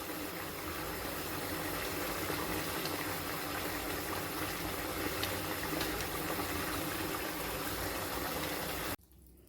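Bangladeshi beef curry (bhuna) simmering in a pot as the liquid cooks off, a steady dense bubbling hiss that runs almost the whole time, then cuts off abruptly near the end.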